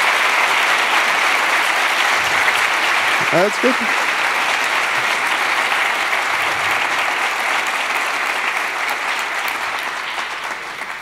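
Sustained audience applause at a start-up pitch award ceremony, loud and dense clapping throughout, with a brief spoken remark partway through and the clapping slowly fading toward the end.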